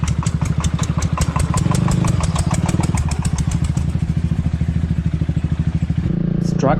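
Motorbike engine chugging in a steady rapid beat while riding through Vietnam's Central Highlands near Pleiku, close and loud throughout, with a brief voice near the end.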